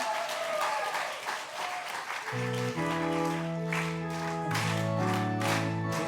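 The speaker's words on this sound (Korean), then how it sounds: "우리 힘있게 박수도 크게 하면서" A university chapel congregation claps loudly during a worship service, and a sustained keyboard hymn accompaniment comes in partway through and continues under the clapping.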